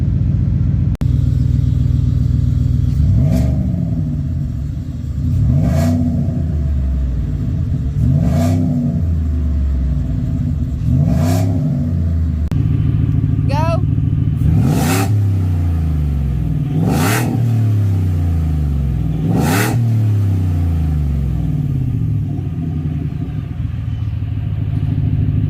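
A 2022 Ford F-150 with a Whipple-supercharged Coyote engine and a freshly changed muffler, revving repeatedly in loud, close bursts over a deep rumbling idle, with about eight sharp rises and falls in an uneven rhythm.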